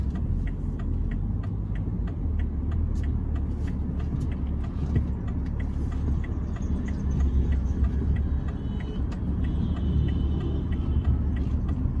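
Interior of a BMW 7 Series driving at normal speed in comfort mode, a steady low rumble of road and engine noise with faint ticking, no talk.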